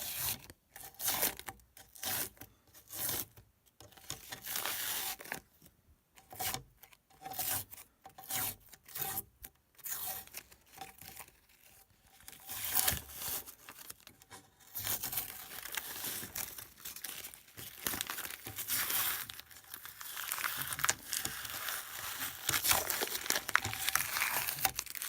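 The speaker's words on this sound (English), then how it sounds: "Okay, so now we're taking the tape off." Tape is peeled off a Prusa Mk2/s 3D printer, producing continuous rasping, crinkling and tearing noises in uneven bursts, close and fairly quiet, with no talking.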